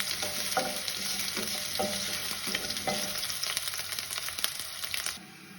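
Potatoes fry with a constant loud sizzle in a pan while a spatula scrapes and stirs them in a few rhythmic strokes, ending abruptly; no voices.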